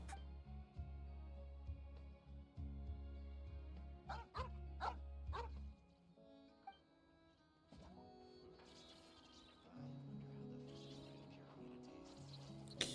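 A dog in the video game Genshin Impact barks several times over steady game music, the yaps coming in short clusters and fairly faint beneath the soundtrack.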